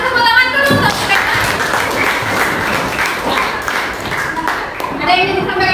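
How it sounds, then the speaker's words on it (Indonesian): A classroom of students claps together for a classmate, a loud, close burst of applause with thumps and scattered young voices running through it. "Kasih tepuk tangan dulu untuk Bella."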